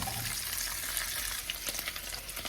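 Sausage and bacon browning in a frying pan for southern fried cabbage, a steady close hiss and crackle of sizzling fat with faint scattered pops, continuous and free of talk.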